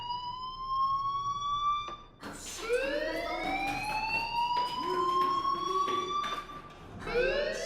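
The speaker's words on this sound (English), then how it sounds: "Hey, do you hear that fire alarm?" A fire alarm sounds in the Life is Strange video game, loud warbling electronic siren tones that sweep up and hold, repeating steadily with no talk.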